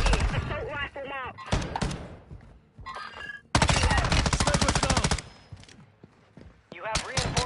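Assault rifle gunfire in a video game comes in rapid, loud automatic bursts, with a short volley, then a long sustained burst and another near the end, with brief voices between.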